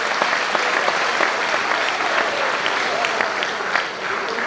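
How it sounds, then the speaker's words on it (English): A church congregation claps hands in a loud, dense, continuous burst of applause that fills the room for several seconds. "clap your hands for God"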